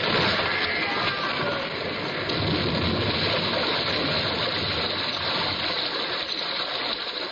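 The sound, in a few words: water pouring into a ship's breach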